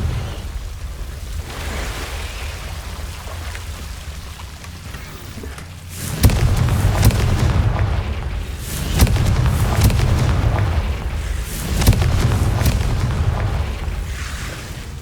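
Confringo fire spell in Hogwarts Legacy blasting a chest guarded by Devil's Snare, heard as a series of loud booming explosions with crackling debris around six, nine and twelve seconds over a rumbling ambient bed, with no talking.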